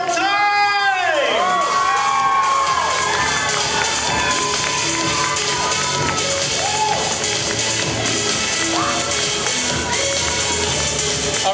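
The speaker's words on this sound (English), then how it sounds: "Give them one last final big round of applause." A crowd cheers, whoops and shouts for the 2018 Miss South Gate pageant court, a loud continuous roar with children's shrieks and a voice over the din throughout.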